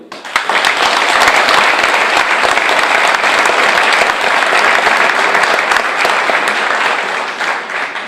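Loud, sustained applause from a large crowd at an election campaign meeting, dense clapping that rises quickly and continues steadily for several seconds.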